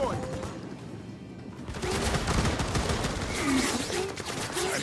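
Automated turret deployed in the sci-fi shooter Firefall rattles off rapid gunfire bursts that build into a dense, steady barrage after a quieter start, with faint chirping tones mixed in.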